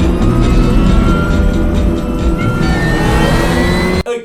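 Race cars roaring through a race in the animated film Cars 3: a loud, dense engine drone with rising whines as cars pass, cut off abruptly near the end.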